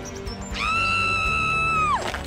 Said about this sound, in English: when he heard Dahlia's familiar scream, Brian couldn't resist and rescued her back to the forest.